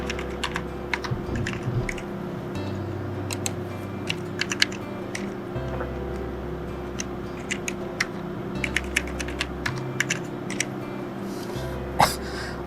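Steady typing on a computer keyboard while an Aadhaar card number is entered into an online form: a run of quick light key clicks at an irregular pace over a low constant hum.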